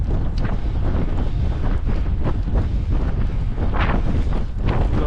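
Wind roars across the microphone while cycling into a headwind on a long road ride, a loud continuous buffeting rush with gusty surges throughout and no talk.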